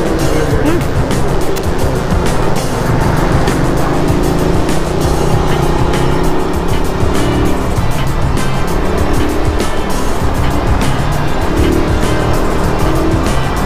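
A Suzuki Raider 150 motorcycle engine running steadily while riding downhill, heard close and loud with constant wind rush and road noise throughout.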